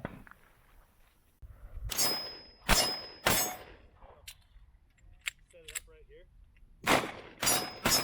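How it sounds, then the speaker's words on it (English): Several sharp gunshots from a Springfield Hellcat Pro pistol fired in close succession, loud and near, in a burst of three, a lone pause, then two more, with clanging casings or steel between shots. "I'm going to hand this over to Curt and have him give his impression of his first mag through this gun"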